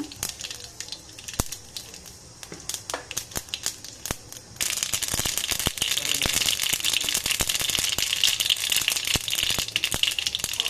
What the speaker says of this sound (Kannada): ಸಾಸಿವೆ ಚಿಟಪಟ ಆದಮೇಲೆ